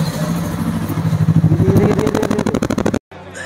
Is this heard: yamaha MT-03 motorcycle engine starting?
yes